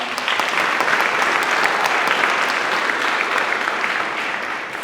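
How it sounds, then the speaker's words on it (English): Dense, steady audience applause at a state youth civic program panel, loud and continuous clapping from a large crowd, tapering slightly at the end. "So let's give her a round of applause."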